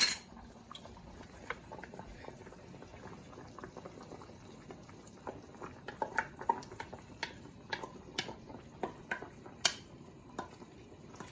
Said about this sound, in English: So I'm gonna add the puree pumpkin.